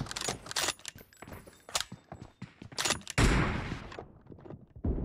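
Sniper rifle fire in PUBG Battlegrounds: sharp repeated shots in a fast, uneven burst, loud and close, with a longer crack and decaying rumble near the end and no voices.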